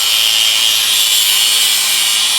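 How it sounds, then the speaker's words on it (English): An angle grinder cuts through a stainless steel braided brake line, a loud, close, continuous high-pitched whine and hiss held steadily throughout with no talking. "a lot easier than if you cut it with a grinder, and then you can cut it with a grinder"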